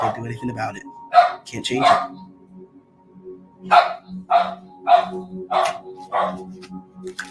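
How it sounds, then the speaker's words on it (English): A dog barks repeatedly in the background, a series of sharp, evenly spaced barks, while a person speaks in the foreground. "I apologize about my dog barking in the background."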